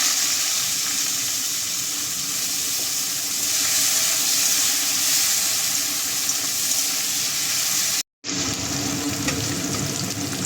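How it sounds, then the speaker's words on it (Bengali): Onion, a bay leaf and garam masala sizzling in hot oil for a potato chicken curry, a loud close continuous hiss and crackle that briefly cuts out near the end, with no talking. "গরম মশলা ফোড়ন দেব, একটা তেজপাতা দেব, পেঁয়াজ দিয়ে দেবো"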